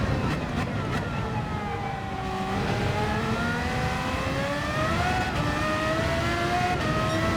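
A race car on tough tires in Gran Turismo 7 revs and shifts, engine pitch climbing and dropping in repeated sweeps as it drives, steady and fairly loud.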